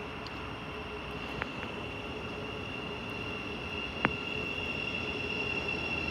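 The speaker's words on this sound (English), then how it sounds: "Train in platform 1," A train arrives at a platform of Stevenage station on the East Coast Main Line, its steady faint rumble and high wheel squeal running under the hum, with two brief sharp clicks.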